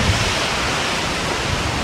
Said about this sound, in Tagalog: Ang lakas talaga ng hangin, guys.